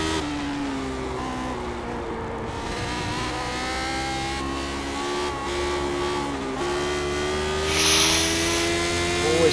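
Lotus 79 race car in the iRacing video game, its engine whining and climbing in pitch through repeated upshifts, steady and loud throughout, with a brief tire squeal near the end.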